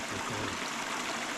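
Clear water trickling steadily from a long-standing leak in a dam, a constant bright hiss and burble with no pauses, close and even.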